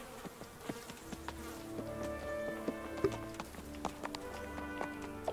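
Horse hooves clip-clopping at a steady walking pace in the medieval video game Kingdom Come Deliverance, faint and regular, with a buzzing insect drone and sustained tones in the background.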